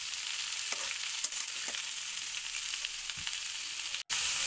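Papaya and lentils frying in a pan while being stirred, a continuous fairly quiet sizzle with occasional scraping stirs and a brief gap near the end.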